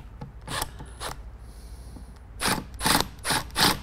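Stainless steel Nylock screws being tightened on a bow-mount electric trolling motor bracket, heard as bursts of close ratcheting clicks from a hand tool separated by short pauses.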